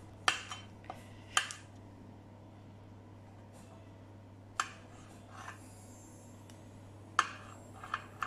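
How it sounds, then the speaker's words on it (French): A knife chopping hard-boiled eggs into rough cubes on a board, a few sharp, sparse clicks and taps spaced irregularly over a quiet background hum, with no voices. "Et le reste, on le coupe grossièrement en cubes."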